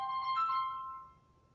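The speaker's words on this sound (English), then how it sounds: "I was disturbed by this phone in the background" A faint phone ringtone chimes in the background, a short melodic tone that fades out over about a second.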